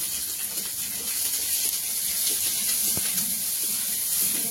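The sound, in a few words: onion and green chilli sizzling in hot oil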